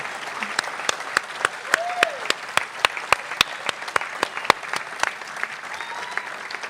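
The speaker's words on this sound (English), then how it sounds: "Please give all our honorees, our community heroes, a rousing round of applause" An audience at a ceremony for community heroes gives sustained applause, dense clapping with sharp individual claps standing out, steady throughout with a few faint voices mixed in.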